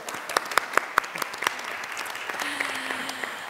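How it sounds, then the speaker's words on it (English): Forum audience at a transit-oriented development implementation event breaks into applause, sharp individual claps at first then blending into a steady, moderately loud wash of clapping from a mid-sized crowd. "Let's clap for Deanna, excuse me."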